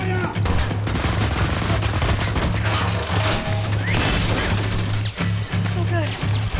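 Heavy gunfire in the Wolfenstein: The New Order video game, with loud, continuous rapid bursts and crashing impacts that barely let up. Voices shout over the din.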